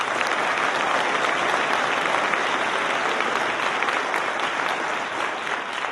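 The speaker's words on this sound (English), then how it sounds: "Let's give them another round of applause." Sustained applause from the audience at a mayoral inaugural address at City Hall, a dense, steady wash of clapping that stays loud and even throughout without pause.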